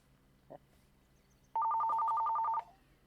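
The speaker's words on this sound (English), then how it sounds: "And that's a phone call." A telephone rings once in a steady electronic trill lasting about a second, loud and close, after a brief faint knock, with a low background hum.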